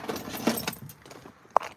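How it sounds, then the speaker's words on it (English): A spare set of keys jangles briefly a few times close by, with soft metallic rattles and one sharper clink near the end, quiet and alone. "There's my spare set of keys."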